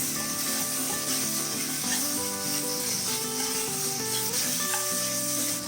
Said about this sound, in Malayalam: വെളുത്തുള്ളി കുറച്ചിട്ട് ചില്ലി സോസ് ഒഴിച്ചെടുക്കാം.